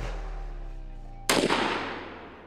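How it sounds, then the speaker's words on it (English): A single sharp gunshot from a Foxtrot Mike FM-15 folding AR-style carbine cracks out midway, loud and close, following a steady low hum. "The FM-15 feels great to shoot."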